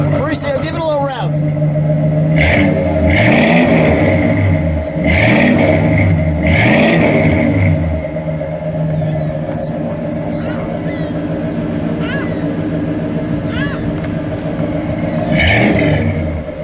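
A 1964 Ford Galaxie 500XL two-door idles steadily, its V8 rumble blipped into several sharp revs that rise and fall, with voices nearby.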